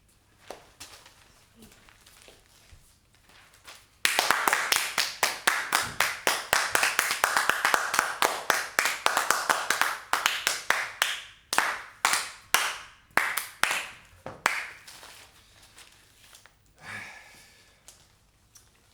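Neighbours clapping for carers at 8pm during lockdown: after a quiet opening, dense applause breaks out, then thins into scattered, slower individual claps before fading, heard from outdoors at a moderate distance.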